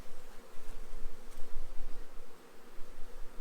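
Honey bees swarm a packed nuc hive as they are transferred to a long hive, a steady, dense buzzing hum that fills the clip close up with no talk.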